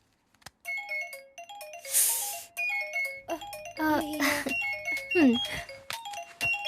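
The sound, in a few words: mobile phone ringing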